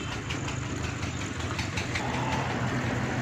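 A car engine idles steadily right after a hydraulic power steering pump has been fitted, giving a constant close mechanical hum and rumble with no voices.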